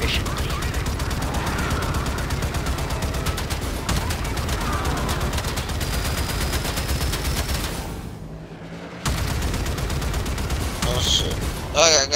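Rapid gunfire rattles continuously in a video game, a dense stream of close shots that dips briefly before resuming, with voices faintly underneath.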